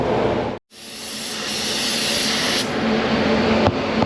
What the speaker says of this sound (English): That's the fan blowing out.